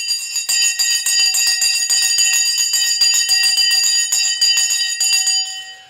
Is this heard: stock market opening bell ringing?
yes